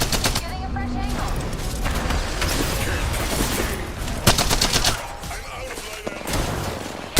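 Gunfire in Apex Legends crackles in rapid automatic bursts with sharp single cracks, staying dense and close throughout while a player talks over the shooting.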